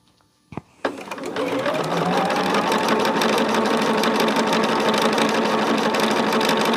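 A sewing machine stitches quilt fabric, starting with a couple of clicks and then running in a loud, continuous, fast mechanical whir close by.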